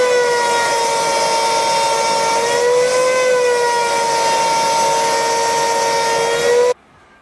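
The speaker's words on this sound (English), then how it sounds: "I want to try routing some of the thickness out of there with a 45-degree probably chamfer" A router on a router table cuts a 45-degree chamfer into scrap wood, a loud steady whine with a stable pitch that runs for about six and a half seconds and then stops abruptly, leaving quiet.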